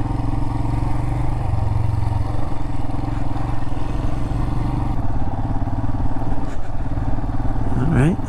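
Motorcycle ridden standing up along a heavily rutted canyon jeep trail, its mid-pitched engine droning steadily and close throughout, with rattling clatter and a brief rev near the end.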